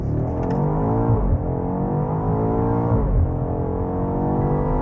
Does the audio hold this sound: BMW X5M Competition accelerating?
yes